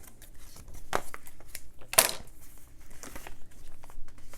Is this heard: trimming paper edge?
yes